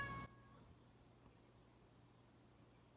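A pet cat gives a single short meow right at the start, close and clear, followed by near silence with faint room hiss.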